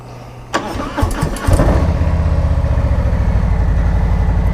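A car engine cranks briefly, catches and settles into a loud, steady, rumbling idle close by, with no voices over it.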